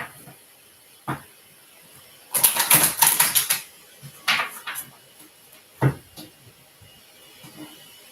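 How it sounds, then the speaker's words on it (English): A deck of cards being shuffled, with a brief riffling burst in the middle and a few scattered soft flicks and taps around it, close and fairly quiet, with no talking. "One more shuffle."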